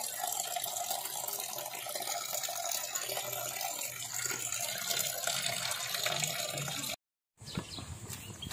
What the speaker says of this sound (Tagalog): hugasan muna natin yung gulay